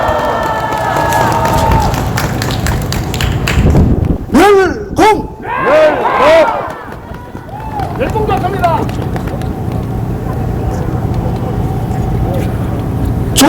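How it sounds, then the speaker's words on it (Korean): Crowd at an outdoor political rally cheers and applauds for chairman Kim Jae-su, with loud shouts and whistles rising in bursts over a steady roar of clapping and voices. "우리 김재수 회장님께 큰 박수를 보내주시기 바랍니다"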